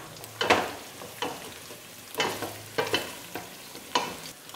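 Ingredients with a chili pepper being pan-roasted for a bean and plantain dish, with repeated close scraping and stirring strokes over a soft, steady sizzle.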